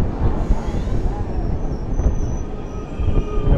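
The Chennai to KSR Bengaluru Brindavan Express rumbles past at close range with clattering wheels and a faint metallic squeal, while voices can be heard faintly underneath.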